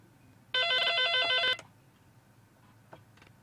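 A telephone rings with an incoming call. One loud burst of bright electronic ringing lasts about a second, followed by faint background noise and a soft click.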